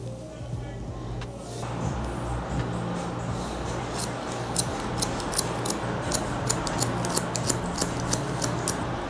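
Scissors snip through hair during a modern mullet haircut, a run of crisp, regularly spaced cuts rising clearly over a steady background hum, close and fairly loud with no talking.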